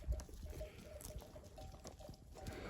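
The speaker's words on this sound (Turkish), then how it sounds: "Ali'nin koyun sesleri geliyordu ama kendisini görmedim." Sheep bleat faintly from a distant hillside flock in foggy mountain country in the Nurhak range, a few thin calls spread over low outdoor wind noise with no talk.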